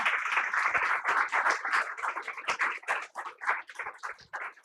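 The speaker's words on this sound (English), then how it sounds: "a huge round of applause for them," An audience at a summit on social sector strategies applauds its speakers, a dense, steady round of clapping that stays fairly loud and continuous for several seconds with no voices over it.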